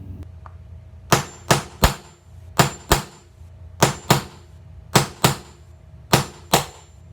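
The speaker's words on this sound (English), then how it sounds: "I'm gonna just hammer the top of this nail set to drive the nail the rest of the way in." A hammer strikes a metal nail set driving a nail into quarter round molding, repeatedly in quick pairs and triplets, sharp loud metallic taps close by with short pauses between bursts.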